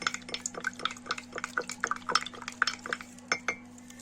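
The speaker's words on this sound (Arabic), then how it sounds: "نقلبهم كويس عشان ما تعملش تكتلات." A spoon scrapes and clinks repeatedly against a metal pot while stirring a sugar and starch mixture for kunafa cream, close, irregular metallic taps over a soft liquid swish, no talking.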